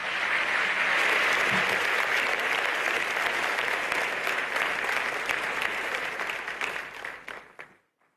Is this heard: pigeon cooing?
no